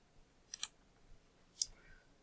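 A single soft mouse click on a computer, starting a video conference, followed by another faint click a second later in a quiet room.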